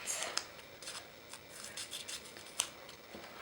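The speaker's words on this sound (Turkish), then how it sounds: "Şimdi de ben resmini kestim. Makas yardımıyla." Scissors snip through a paper drawing in a series of soft, close cuts, with a few sharper clicks of the blades between quieter rustling.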